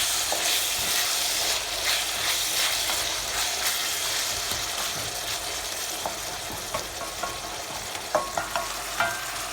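Meat sautéing in a pan for a diet rice dish gives a steady, close sizzle throughout, with scattered stirring scrapes and a few sharper clicks toward the end; no one speaks.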